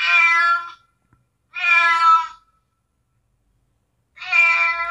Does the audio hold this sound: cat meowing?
yes